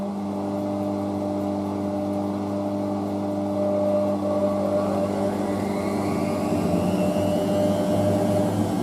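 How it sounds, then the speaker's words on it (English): A Hotpoint Aquarius WM63 washing machine running its extra spin with a steady, loud mechanical whine and hum. The drum noise holds a constant pitch and rises slightly partway through, with no talk. "I'll see you when the machine is put on the extra spin"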